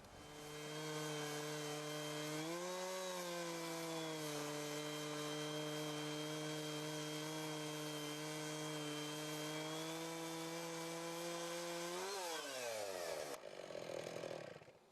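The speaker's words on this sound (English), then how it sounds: "Lower the guide rail 1 inch and you can saw a rough-edged board." A Logosol Big Mill chainsaw mill saws a rough-edged board, one continuous loud, steady chainsaw whine that rises briefly in pitch, then winds down near the end before cutting off.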